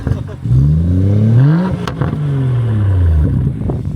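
BMW X4 engine revving up, a rising then falling tone swelling twice over a few seconds, close and loud, with faint voices around it.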